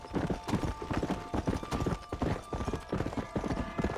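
A horse is ridden in Red Dead Redemption, its hooves beating a close, quick and steady clip-clop rhythm that runs through the whole stretch, with faint voices underneath.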